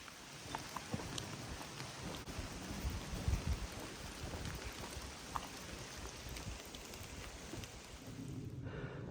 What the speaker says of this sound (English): it looks like it's gonna be raining pretty good today